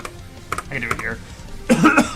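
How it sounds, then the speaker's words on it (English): A person clears their throat up close, a couple of short rough rasps and a cough-like burst, with a bit of breathy vocal noise around them. "I need to clear my throat"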